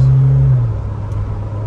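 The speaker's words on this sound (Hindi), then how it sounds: "खाली रोड है इस पर भगा कर देखेंगे एक बार गाड़ी को नॉर्मल में भगा रहा हूँ नॉर्मल मोड में" A Mahindra Thar in normal mode pulls away on an empty road, a loud low engine rumble that starts strong and then settles into a steadier, quieter drone.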